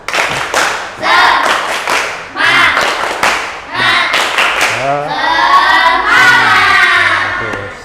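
A classroom of students doing rhythmic spirit claps led by their teacher, loud patterned bursts of clapping mixed with chanting voices, ending in a longer stretch of vocal chanting.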